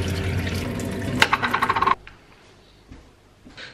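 A cup is rinsed under a running kitchen tap, with close water splashing and gurgling for about two seconds before the flow stops, followed by faint handling sounds.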